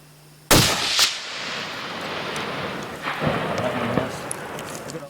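A single loud rifle shot cracks out while hunting in Alaska, close and sharp, followed by a long rolling echo that decays slowly under a faint outdoor background, with a couple of softer thumps later.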